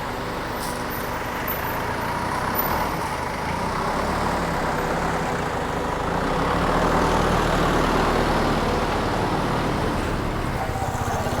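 Car passing on a street in Bangkok, a continuous roadway rumble of engines and tires that swells and fades across the clip amid broader traffic noise.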